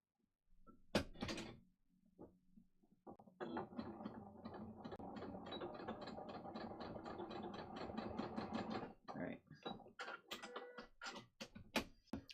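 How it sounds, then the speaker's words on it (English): Sewing machine stitching narrow elastic into a loop, a steady mechanical chatter running several seconds, close and alone, preceded and followed by scattered clicks and handling taps. "I'm just going to quickly sew this into a circle"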